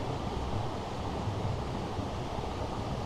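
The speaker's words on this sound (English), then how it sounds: "It's the water." Water below a 350 ft climb down to a river on Saint Lucia in the Canaries echoes in a small rocky cove, a steady, bass-heavy rumble of surf and wind with no pauses.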